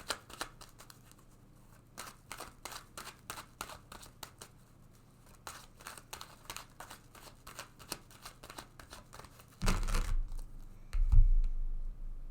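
Tarot cards are shuffled in a quick run of soft, rhythmic riffles and taps, followed by louder handling bursts as cards are drawn, with no talking.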